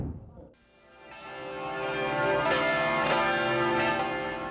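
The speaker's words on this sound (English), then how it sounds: "The tolling of the bells at Thanksgiving Square gathered people together to celebrate the spirit of Thanksgiving." Bells toll at Thanksgiving Square in Dallas, a rich ringing chord swelling after a brief quiet start and sustaining loudly, with repeated strikes blending into a continuous resonant wash.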